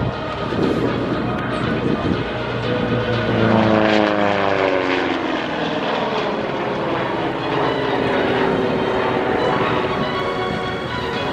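A P-47 Thunderbolt fighter-bomber with an R-2800 radial engine flies past low at an airshow, a loud propeller drone that swells and then falls in pitch as it passes and recedes.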